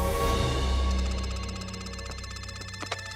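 A cartoon telephone ringing in an animated series, a repeated electronic trill in rapid pulses rising out of a fading musical swell, fairly clear and close.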